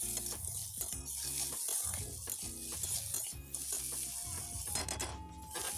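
Vegetable fried rice is stirred and tossed in a frying pan, giving repeated scraping strokes of a utensil against the metal pan over a soft sizzle, close and rhythmic.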